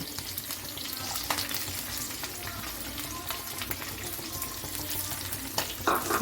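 Onions sizzling and frying in a pan for egg noodles, a steady close hiss with occasional stirring scrapes throughout, no talking.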